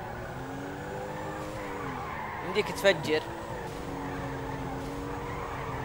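Car engine revving steadily in GTA V with a burst of tire skidding mid-way, a light, nimble car driven hard without braking; someone talks over the steady engine drone throughout.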